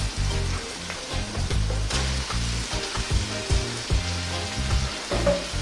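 Seasoned mutton frying with onions in a pan, a dense, continuous sizzle and crackle close by, with low rhythmic thumps of the pan and occasional stirring, no voices.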